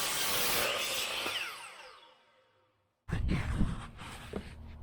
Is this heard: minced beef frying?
no